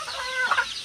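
Chickens on a farm cluck in a brief, close, bright burst of a few squawky notes over a quiet background.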